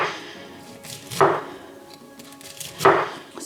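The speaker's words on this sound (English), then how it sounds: "So I'm going to take this down really into thin slices." A kitchen knife slicing raw cauliflower into thin slices for a summer salad, two crisp chopping strikes against the board about 1.7 seconds apart, close and clear between quieter crunching cuts.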